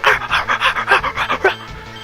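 A human voice imitates a dog, mixing a scream with a fake bark in a quick series of rhythmic, breathy yelps, close and fairly loud, with no words spoken.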